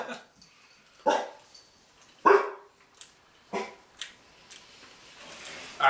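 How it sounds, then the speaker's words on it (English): A dog barks in several sharp, loud, separate bursts spaced about a second apart, with softer yips and whimpers between them, in a room where people are doing a jelly bean tasting challenge. "It's my dog."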